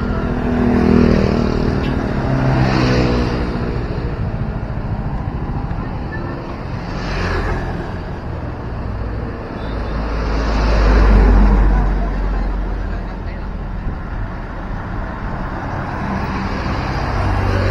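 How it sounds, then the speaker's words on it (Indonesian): Vehicles leave the Padang–Sicincin toll road heading toward Bukittinggi. A steady, fairly loud road roar with wind rumble swells as cars and motorbikes pass, peaking roughly every few seconds. "kendaraan yang baru keluar dari jalan tol dari arah Padang menuju ke Bukit Tinggi"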